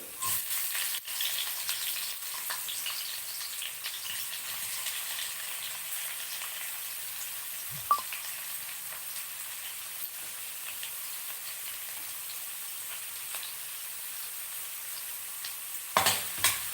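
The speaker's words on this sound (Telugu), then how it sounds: "బాగా ఉల్లిపాయలు వేయించాలి" Onions frying in hot oil, a soft continuous sizzle with a few faint stirring clicks and a small clatter near the end.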